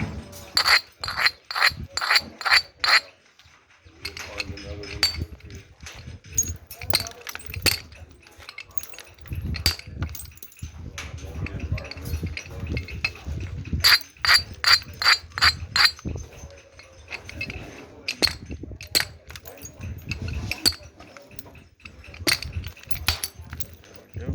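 Flakes being knapped off Edwards chert stone: bursts of sharp, glassy clinks and scraping rasps, close and loud, separated by quieter rubbing pauses, with some brief talk between strikes.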